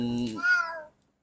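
A single close meow from a pregnant cat caught on barbed wire, rising then trailing off, with a brief high-pitched vocal sound just before it and silence after.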